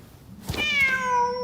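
A cat meows once in Genshin Impact, a single clear, fairly close meow with a rising then falling pitch over faint ambient game background.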